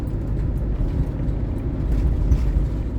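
A camper van cruising along an Italian lakeside road gives a steady, close, continuous rumble of engine and road noise, with no talk over it.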